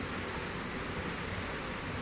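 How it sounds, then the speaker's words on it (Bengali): Heavy rain pounds down in a strong wind outside a house with a tin roof, a dense, steady broadband roar that stays loud and unbroken from start to finish. "প্রচণ্ড বৃষ্টি।"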